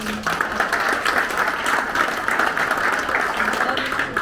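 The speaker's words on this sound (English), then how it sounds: "round of applause to Ryan for organising this amazing" A members' club audience gives a round of applause for Ryan, the event organiser, a steady wash of many hands clapping that holds at an even level throughout, with faint voices underneath.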